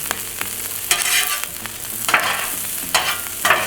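Rice crisps in a hot pan for fried rice with Chinese hot mustard, a loud steady sizzle punctuated by several bursts of spatula scraping and stirring.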